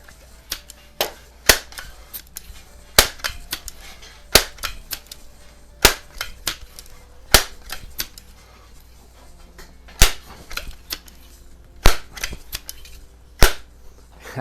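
Sheridan CB9 .20 caliber pump pellet rifle firing lighter pellets, a series of sharp, loud cracking shots spaced a second or two apart, each standing out cleanly against a quiet background with no talk.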